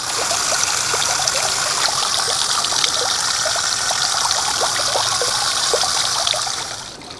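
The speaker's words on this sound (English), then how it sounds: "I moved those couple of heucheras and I gotta get those watered too" Water splashes and trickles steadily onto soil around freshly transplanted heuchera plants in a garden, a close, continuous gushing patter that tapers off at the end.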